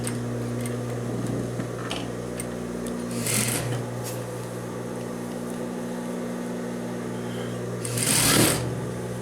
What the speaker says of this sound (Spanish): vamos a coser justo a un ladito de nuestra pestaña de cierre para que quede bien forradito